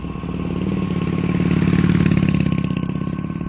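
Motorcycle engine revving as the bike pulls away on a city road, a steady buzzing putter that swells in the middle and holds near and loud before easing slightly.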